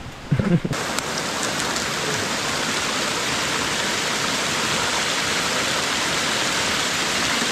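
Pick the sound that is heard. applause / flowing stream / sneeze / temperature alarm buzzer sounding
flowing stream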